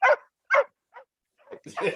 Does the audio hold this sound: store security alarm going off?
no